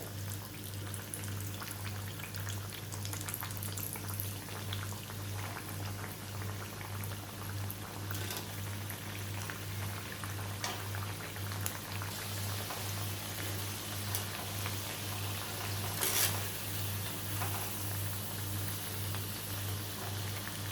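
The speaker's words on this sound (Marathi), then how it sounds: "आता आपण त्यामध्ये ह्या वड्या सोडूया आणि छानपैकी खरपूस अशा आपण त्या फ्राय करून घ्यायच्या." Alu vadi slices, the Maharashtrian colocasia-leaf rolls, fry crisp in hot oil with a dense, continuous bubbling sizzle, steady throughout, with a low constant hum beneath and a few brief clinks.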